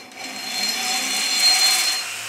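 A right angle porting tool grinds the transfer ports of a 2-stroke cylinder, giving a steady, high-pitched whirring hum held at constant speed for a couple of seconds, close and fairly loud with no talking.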